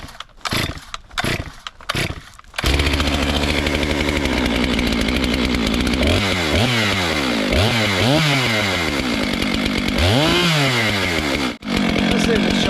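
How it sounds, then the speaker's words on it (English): A Stihl-style 462 chainsaw is pulled several times, each pull giving a short rasp, then catches and runs loud and close, idling steadily before being revved repeatedly in rising and falling surges. "This first start in probably over a month, I think, for either of these saws."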